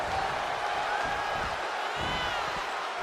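A crowd in a wrestling arena in WWE 2K23 cheers and roars in a steady, loud wash that never lets up, with some higher swells and whoops inside it.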